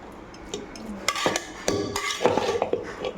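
Hot rice and lentil rice (arisi paruppu satham) is stirred in a metal pot, giving repeated clanking scrapes of a spoon against the pot. The strokes are close and uneven, and no one speaks.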